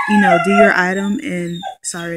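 A pet dog whines and howls in long, wavering high-pitched cries that carry through a few seconds, close and loud, while a person talks over it.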